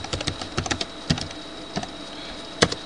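Keys clatter on a computer keyboard in quick irregular bursts of clicks, close and fairly quiet, with a brief pause before a final louder keystroke.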